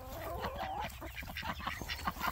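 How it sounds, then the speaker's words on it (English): Baby chicks and other fowl call in a busy, overlapping chorus of short peeps and honk-like cries close by, continuous through the brief moment with no talking. "Look at them baby chickies coming."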